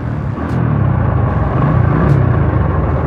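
A Honda GL100 motorcycle ridden at night gives a steady, loud engine rumble with road noise running throughout, without speech.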